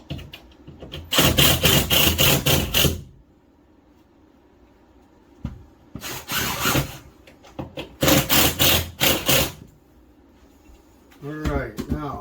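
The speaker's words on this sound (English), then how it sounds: "A little hammer" A small hammer taps on an old 1800s bathroom wall in quick, regular bursts of sharp blows separated by pauses, with a person talking briefly near the end.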